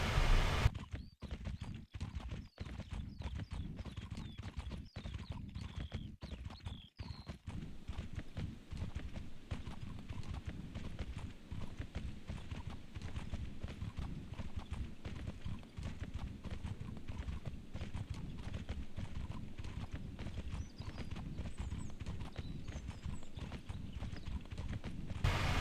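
Donkey hooves clip-clopping steadily in the Mortal Online game world, a continuous walking rhythm of soft hoof falls at moderate volume, heard alone without speech.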